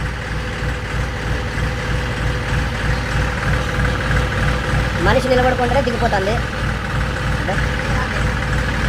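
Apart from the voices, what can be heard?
tractor engine idling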